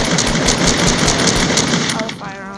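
Fast automatic gunfire in Fortnite rattles loudly in a steady stream of close, rhythmic shots, fading near the end, with someone talking over it.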